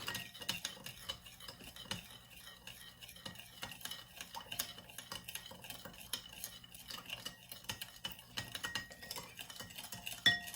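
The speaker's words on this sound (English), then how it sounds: "And now I'm stirring. I want the sugar grain to dissolve in my coconut milk." A spoon stirs sugar into coconut milk for Jamaican cassava pone, giving a steady run of small clinks and scrapes against the bowl, fairly quiet and close, with no voices.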